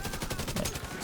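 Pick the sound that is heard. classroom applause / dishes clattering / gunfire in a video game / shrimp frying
gunfire in a video game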